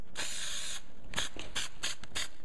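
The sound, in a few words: spraying from a spray can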